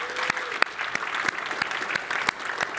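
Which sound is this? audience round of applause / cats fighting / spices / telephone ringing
audience round of applause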